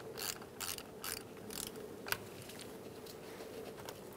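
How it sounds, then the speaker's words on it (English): An 8mm socket wrench loosening the negative battery terminal on a 2000-2007 Ford Taurus, several quick bursts of metallic ratcheting clicks in a row, close but quiet, then a faint steady hum with no talking. "Using an 8mm socket or wrench, you're going to disconnect your negative battery terminal."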